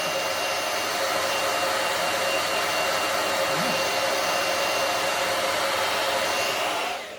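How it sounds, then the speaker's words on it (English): A hair dryer blow-drying the lace of a hair replacement system runs with a steady, loud, close whoosh and whine that holds constant for several seconds before cutting off at the end. "So I'm going to blow dry it to make that lace release liquid evaporate."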